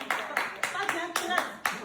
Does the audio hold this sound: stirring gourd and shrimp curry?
no